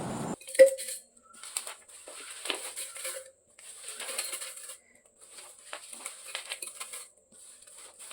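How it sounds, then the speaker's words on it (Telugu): Fried curry leaves and spice ingredients tipped into a steel mixer jar, giving light clinks, rattles and crisp rustles in scattered bursts, close and fairly quiet, with no talking. "మిక్సీ జార్లో వేస్తున్నాను."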